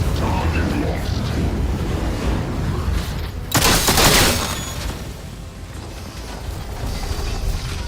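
Gunfire at an enemy in the video game Atomfall, a short dense burst of shots standing out over a steady noisy game background, loud and close, with a voice talking around it.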